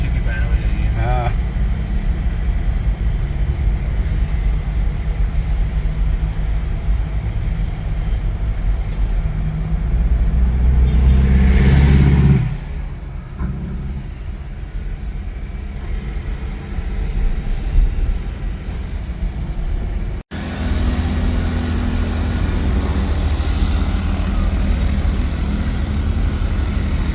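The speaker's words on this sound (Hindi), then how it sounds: "रिक्शे का इंजन इधर ही बंद हो जाएगा।" An auto rickshaw engine drones continuously at full speed on a road near Medellín, Colombia, a steady loud mechanical hum that swells briefly in the middle and carries on throughout.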